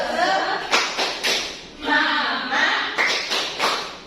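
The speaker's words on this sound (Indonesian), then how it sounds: "Tepuk semangat." A group of schoolchildren does the Indonesian 'tepuk semangat' spirit clap in a rhythmic pattern of sharp claps and slaps spaced through a few seconds, with voices chanting between the beats.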